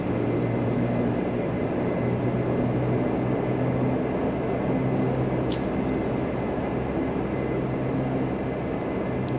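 A Q400 turboprop engine spools up in a flight simulator, a dense, steady roar with rising tonal whine that stays loud throughout.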